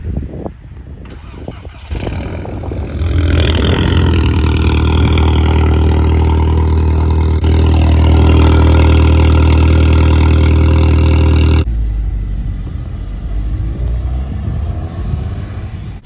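Several car engines run together on a driveway, among them a Toyota Celica GT ST202, making a loud, steady idling drone that swells as one engine revs up, holds, then drops back to a quieter idle.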